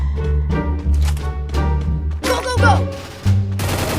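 Rapid gunfire bursts in a shooter video game with a sniper landing headshots, sharp clustered shots and impacts over about four seconds, loud and close, layered with game effects.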